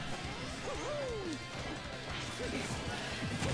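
A hard smash hit lands in a Super Smash Bros. Ultimate tournament match, with crashing impact sounds among game effects under excited commentary.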